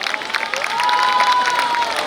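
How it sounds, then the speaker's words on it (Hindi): Audience applause at a Gangaur festival celebration: a dense, steady wash of crowd clapping that swells after the first half-second, with a thin whistle-like tone sustained through it. "जो तालियां बजा रहे हैं"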